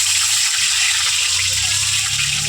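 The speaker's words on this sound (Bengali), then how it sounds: "তেলের মধ্যে আমি আলুগুলো ছেড়ে দেবো।" Raw potatoes dropped into hot white oil in a wok, giving a loud, steady hissing sizzle that holds without a break, with no talking.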